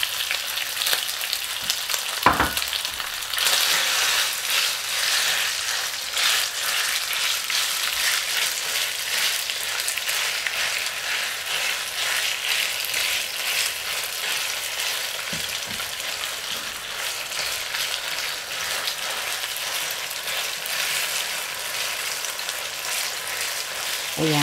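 Thinly sliced beef for Mongolian beef with chili and oyster sauce, frying in a hot pan: a loud, continuous close sizzle with a sharp clatter near the start and occasional faint stirring.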